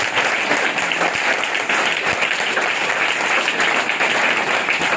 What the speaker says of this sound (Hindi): सारा तालियां खुदा के चुनाव के लिए।